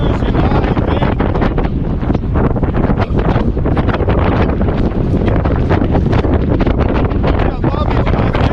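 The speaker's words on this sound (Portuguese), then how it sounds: "Um pouco para vocês as condições de mar e vento." Strong wind buffets the microphone on the southern Bahia coast at Prado, a loud roaring rush with rough gusts and sea noise underneath, continuous for several seconds.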